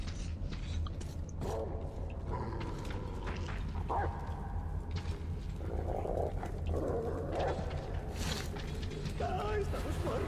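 Dogs growl and snarl in the post-apocalyptic shooter game Metro Exodus, low rumbling growls over a dense, continuous game soundscape with mechanical clanks.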